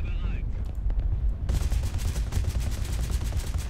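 Rapid gunfire bursts in the War Thunder combat game, dense crackling shots starting after a brief quieter stretch with a faint whistling tone, loud and continuous to the end.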